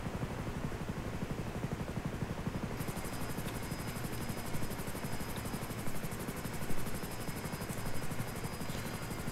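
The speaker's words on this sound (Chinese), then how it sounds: "我们直升机直接开过去好了" A helicopter flies in the game GTA 5, its rotor chop a steady, dense whir that holds close and loud throughout, with a thin high engine whine joining partway in.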